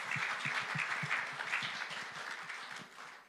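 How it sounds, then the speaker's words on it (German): A church congregation applauds for the mothers during a guest sermon, a dense wash of many hands clapping with a faint rhythmic thump underneath, steady and fairly close before tapering off at the end. "Können wir für unsere Mamas klatschen?"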